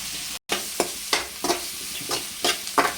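Onions fry in a pan with a soft steady sizzle while a spoon stirs them in rhythmic scrapes, about seven strokes, close and clear, after a brief cut of silence.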